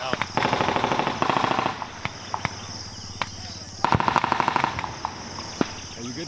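Machine-gun bursts ring out at a joint U.S. Army military exercise in the Philippines, with rapid rattling strings of shots and single reports at mid distance. A constant insect drone sits underneath.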